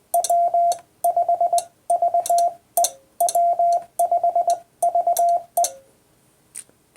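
Ham radio Morse code sending the call sign W5VE: a clear, steady beeping tone keyed in quick groups of short dits and longer dahs, separated by short pauses, heard alone with no talking.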